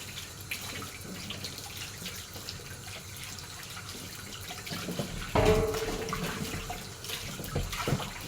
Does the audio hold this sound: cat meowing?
no